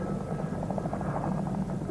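A steady, thick rotor drone of a Chinook twin-rotor helicopter, constant and fairly loud throughout, with a faint rhythmic chop.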